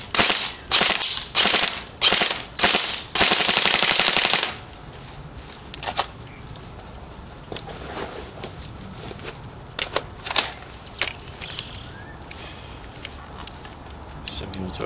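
An airsoft gun shooting 0.25 g BioBalls BBs cracks off several sharp single shots, then a short rattling full-auto burst. Quieter scattered clicks and handling sounds follow.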